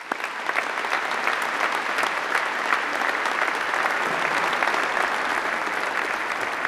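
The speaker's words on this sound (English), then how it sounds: "Please give them a huge round of applause." A large crowd applauds steadily, a dense wash of clapping that holds at an even loudness throughout.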